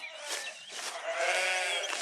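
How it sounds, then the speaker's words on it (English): Sheep bleat in a field, several overlapping cries that rise and sustain across the moment, fairly close and clear with no talk. "A field full of sheep."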